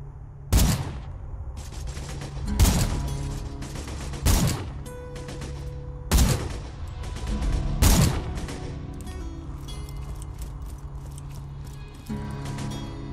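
Several loud bursts of gunfire in Borderlands 2 at irregular intervals, each a sharp broadband blast with a short ringing tail over a steady low rumble.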